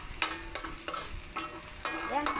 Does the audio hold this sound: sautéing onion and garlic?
yes